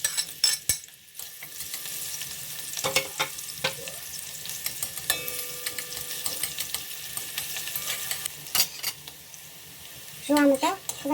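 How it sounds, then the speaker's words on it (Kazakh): Chopped onions sizzle and fry in a ladle of vegetable oil for a Kazakh chicken gravy, with steady crackling and occasional stirring clatter of a utensil against the pan, close up and continuous. "Майымызға жуамызды салып қуырамыз."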